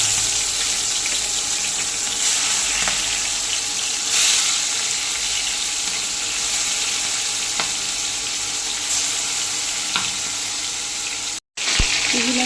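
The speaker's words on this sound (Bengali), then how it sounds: "এবার আমি চিংড়ি মাছগুলোকে এর মধ্যে দিয়ে একে একে ভাজতে" Prawns frying one by one in hot oil in a kadai, with dry chilli and cinnamon among the spices, give a steady, moderately loud hiss with a few soft clinks and a brief break near the end.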